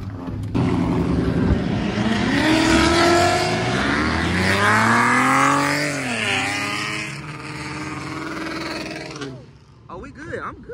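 A Chevrolet Camaro ZL1 at a car meet in Baton Rouge revs hard while driving, its loud engine rising and falling through several pitch sweeps before cutting off, with people talking nearby.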